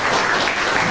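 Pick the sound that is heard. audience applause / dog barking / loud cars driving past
audience applause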